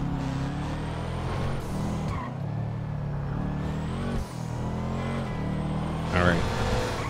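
A car engine drones steadily while driving through traffic in GTA 5, a loud, continuous hum with a low rumble and occasional shifts in pitch, and someone talks over it.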